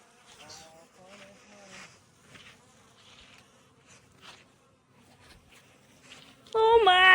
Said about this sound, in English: There's a bee in my hair!